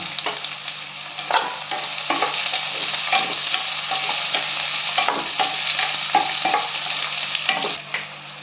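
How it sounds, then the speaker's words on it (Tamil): Onions roast in oil in a pan while being stirred, giving a steady close sizzle with frequent scraping and clinking of the spoon throughout. "எண்ணெய் ஊற்றிட்டு வெங்காயத்தை நல்லா ரோஸ்ட் பண்ணிக்கிங்க."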